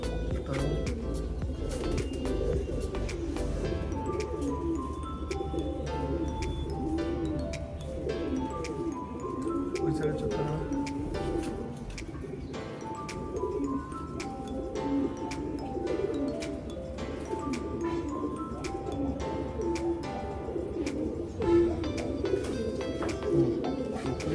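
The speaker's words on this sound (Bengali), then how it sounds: "অনেক সুন্দর একটা কবুতর" A khaki pigeon coos in soft repeated phrases close by, with other birds calling faintly and a low background hum underneath.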